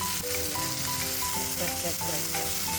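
Pork meat sizzles and crackles steadily while being stir-fried with green bell pepper, a continuous close frying hiss with faint background tones and no clear talk.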